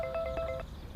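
A mobile phone ringtone sounds for an incoming call in a Turkish police drama, a short series of bright electronic pulses over a quiet low background.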